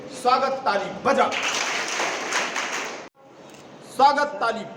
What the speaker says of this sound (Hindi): स्वागत ताली बजा।